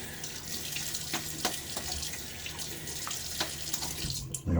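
Tap water runs into a sink to rinse during a wet shave, a steady close splashing stream with a few brief knocks and louder splashes, and no talk.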